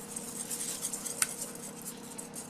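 Whisking an egg yolk custard mixture in a bowl, a soft, steady rhythmic scraping and clinking that runs continuously at low volume, with one brighter tap partway through.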